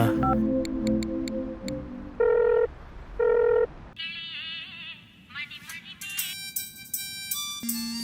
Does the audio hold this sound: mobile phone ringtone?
yes